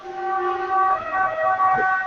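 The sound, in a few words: ambulance siren passing by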